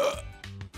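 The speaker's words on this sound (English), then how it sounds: "You say the bed app won't stop burping?" Cartoon burp from a malfunctioning bed app, a short series of loud, exaggerated belching sounds in quick succession, close and comical.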